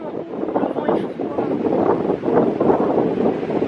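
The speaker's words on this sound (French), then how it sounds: "En fait c'est le vent." Wind buffets the microphone in a steady low rumble with gusting swells, and a voice can be heard faintly beneath the roar.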